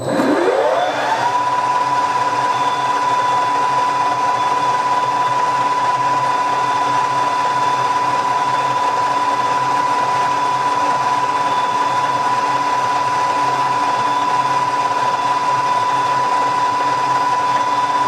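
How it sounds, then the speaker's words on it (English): A metal lathe parting off a thin shim, a steady mechanical whir with a sustained whining tone that rises at the start and then holds level, loud and continuous with no talking. "Then move at the thickness of shim I want and part it off."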